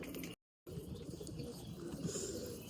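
Pigeons coo softly near their coop, faint low murmuring calls repeating over a quiet background, broken by a short dropout early on.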